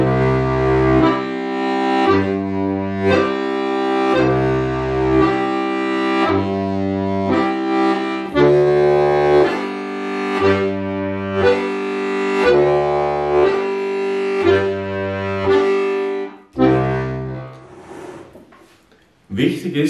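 Styrian accordion plays a steady repeating legato-staccato exercise, long held bass tones under short, clipped chords, close and fairly loud.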